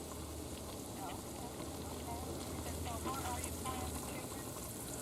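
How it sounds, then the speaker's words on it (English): Chicken frying in a pan on a Coleman double-burner camping gas stove, giving a steady close sizzle with scattered crackles and pops throughout, joined by a low burner hum. "I'm in the middle of frying the chicken."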